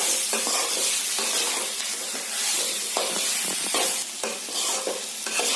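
A spice paste with coriander, turmeric, red chili powder and salt being stirred in a hot pan for a cauliflower dish, loud continuous sizzling and hissing punctuated by scraping strokes of the spoon.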